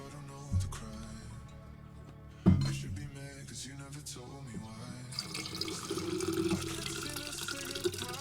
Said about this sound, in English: I'm just pouring water in my water bottle.